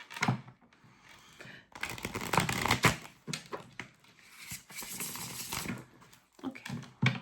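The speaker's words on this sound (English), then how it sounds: "Give me one more shuffle." Tarot cards being shuffled by hand in bursts of riffling and soft slapping, close and fairly quiet, with brief pauses between shuffles and no talking.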